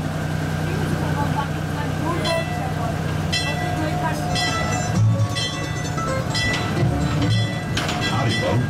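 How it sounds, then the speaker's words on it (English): A small tourist train on the Calico and Odessa Railroad in the Calico ghost town, California, pulls away with a steady low rumble and occasional clanks, while people talk nearby. "getting ready to take off on a little train."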